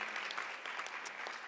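An audience at a 2011 Women of Reform Judaism assembly breaks into sustained applause, a dense, steady patter of many hands clapping throughout.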